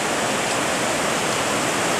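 A river rushes below a footbridge in the Tararua Mountains, heard as a steady, loud broadband roar of flowing water with no talking.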